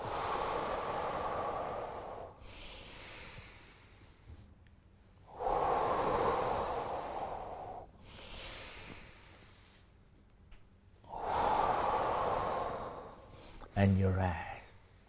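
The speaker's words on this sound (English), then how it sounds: "Exhale. Inhale." Slow deep breaths during a guided Taoist breathing exercise: long, loud airy exhales alternate with softer inhales in a steady rhythm of about four cycles, close to the listener, ending with a short sniff.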